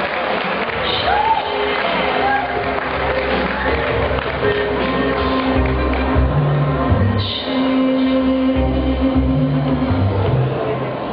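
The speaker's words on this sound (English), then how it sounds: "Big round of applause, ladies and gentlemen." Loud, sustained audience applause for a finalist at the Miss Singapore World 2011 grand finals, dense clapping with cheers and shouts, with a brief lull before it swells again.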